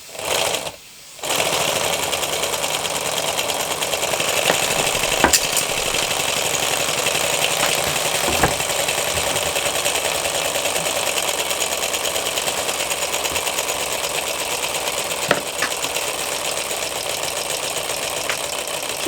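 A small converted model car engine runs continuously at high speed, a loud, close, buzzing drone that holds steady for the whole stretch after a brief gap near the start.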